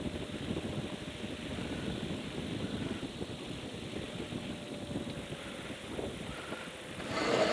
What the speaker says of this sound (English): Oh, here comes a gust.